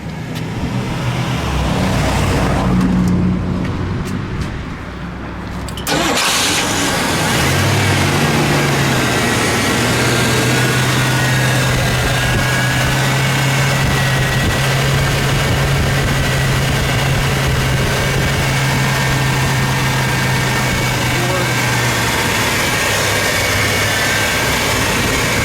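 A 1968 Ford Thunderbird Landau with a 429 V8 cranks with a rough starter churn, catches, and settles into a loud, steady, deep idle rumble heard close to the car.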